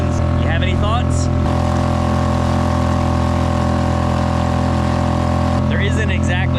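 A Suzuki 2.5hp outboard motor runs at high revs on a boat, a loud, steady, droning whine held for several seconds, with brief voices near the start and end.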